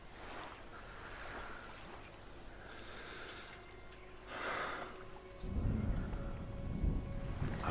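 Rain and thunder from the video game Draugen, with a faint steady rain wash, soft rumbling swells, and a heavier low thunder roll arriving near the end, with no voices.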